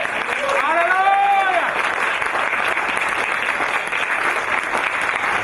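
A church congregation at a French-language Sunday service fills the room with sustained applause and cheering, loud and continuous throughout, with voices rising over the clapping.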